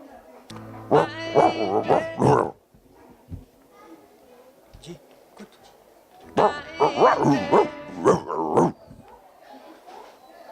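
Dogs yip and bark at a dog show in a gallery, two bursts of high, excited barking and whining with quieter voices and background chatter between them.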